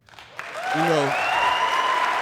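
Audience applause and cheering at a comedy show, swelling after a short lead-in and holding steady, with a rising whistle or whoop riding over the crowd noise.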